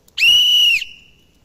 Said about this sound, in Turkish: bu arada düdüğümü de göstereyim